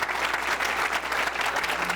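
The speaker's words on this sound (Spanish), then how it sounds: "Un aplauso, por favor." Dense audience applause at a lecture, many hands clapping in a continuous, even roar that stays loud throughout the short stretch, with no voices over it.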